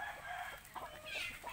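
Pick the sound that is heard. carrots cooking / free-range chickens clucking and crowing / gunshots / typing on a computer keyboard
free-range chickens clucking and crowing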